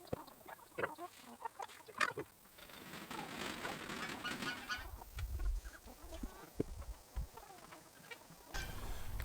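Backyard chickens in a flock, including an older hen, cluck intermittently close by amid rustling and a steady rain-like patter, with brief low thumps near the end.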